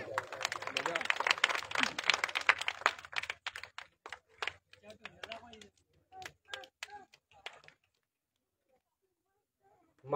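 Audience at a Marathi public meeting applauding for speaker Sandeep, a burst of dense clapping that thins into scattered claps and fades out, ending in near silence.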